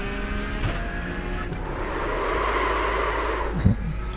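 A racing car in iRacing runs loud with a constant engine drone while its tyres lock and scrub under hard braking, a rising, grinding skid building steadily toward the end.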